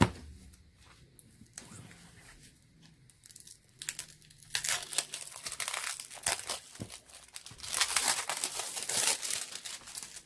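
An American Greetings paper folder being opened, with soft crinkling and rustling of old paper that starts faint and grows into louder, dense crumpling toward the end, no voices.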